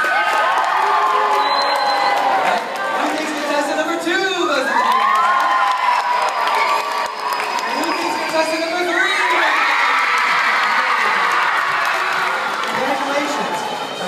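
A live crowd of adults and children cheers, whoops and shouts loudly and continuously, with chatter and excited voices rising and falling throughout in a school assembly setting.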